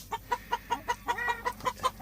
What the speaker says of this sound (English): Oh, all the chickens are out.